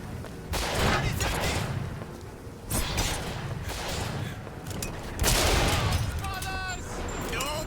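Snipers fire in the shooter game BioShock Infinite: dense, loud volleys of gunshots and booms crowd together, overlapping with other in-game effects and a few tonal chirps near the end.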